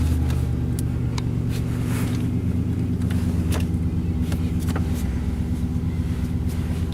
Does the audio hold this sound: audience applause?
no